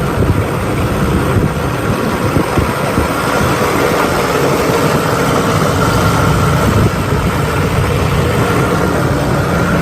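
A deep, steady muscle car engine idle rumbling continuously up close, with no revving and no voices.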